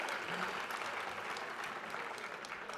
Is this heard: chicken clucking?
no